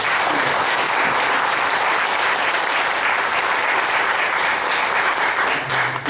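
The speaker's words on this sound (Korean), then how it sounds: "목사님 뜨거운 박수 한번" Church congregation giving warm, sustained applause for the pastor after a Friday special lecture, loud steady clapping filling the room from start to finish.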